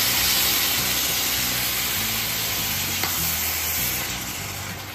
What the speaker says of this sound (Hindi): त्याच्यामध्ये आता पाणी घालून घेऊया